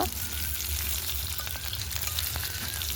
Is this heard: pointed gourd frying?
yes